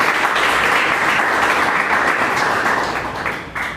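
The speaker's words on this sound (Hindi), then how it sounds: "एक बार आप लोग तालियां जोरदार करें।" Dense, loud applause from an audience at a Hindi poetry recital, a steady wash of many hands clapping that holds firm for several seconds and then tapers off slightly near the end.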